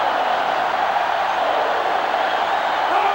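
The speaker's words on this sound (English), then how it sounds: "They're really struggling now as this crowd is going absolutely insane" A stadium crowd in the NCAA Football 07 video game roars loudly and steadily throughout, a dense, continuous wall of cheering with no individual voices standing out.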